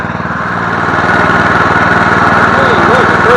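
Murray 17.5 hp riding lawn tractor with a 42-inch deck, its engine running steadily and loud up close with a constant droning rumble, a voice talking briefly over it.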